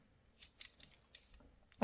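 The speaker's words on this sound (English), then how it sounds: "So I'm cutting along this printed layer." Scissors snip through a printed paper layer for a junk journal page, several short crisp cuts spaced irregularly, close and fairly quiet, ending with a louder rustle.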